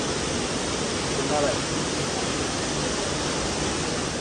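Water rushes over rocks at Sundarijal in a loud, steady, unbroken roar of white water that fills the whole stretch.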